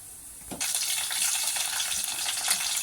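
Cumin seeds and green chilies hit hot oil for jeera rice, with a bright, steady sizzle that bursts in after a soft clack about half a second in and continues loud and close.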